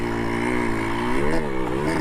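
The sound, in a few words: Honda MB5 motorcycle engine revving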